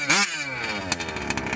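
A Baja SE gas-powered RC car with a 34cc engine revs up hard, its buzzy two-stroke whine sweeping up in pitch then settling into a rough, rattling idle, loud and close.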